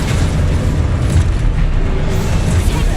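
A Confringo spell explodes in Hogwarts Legacy with a loud, sustained, rumbling boom that fills the whole moment, with no talk over it.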